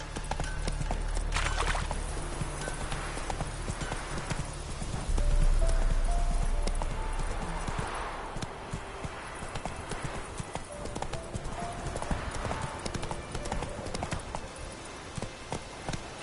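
A horse gallops in The Witcher 3 video game, rapid rhythmic hoofbeats clip-clopping at close range, swelling louder midway and then easing off, with a faint snort or whinny and no talk.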